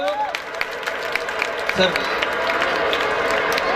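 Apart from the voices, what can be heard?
audience applause at a school function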